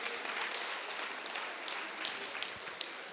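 An audience applauding at a meditation gathering, a dense, steady patter of many hands clapping at moderate volume for a few seconds.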